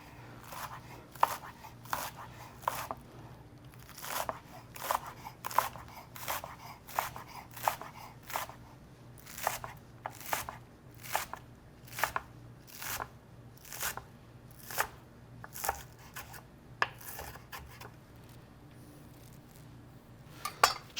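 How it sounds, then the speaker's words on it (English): Knife chopping green onions on a cutting board, a long run of crisp, evenly spaced chops, steady and close, with no talk. "I cut it in half, stack it next to each other so I can get a big stack and do less slicing"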